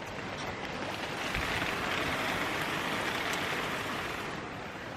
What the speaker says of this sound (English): It's proper coming down.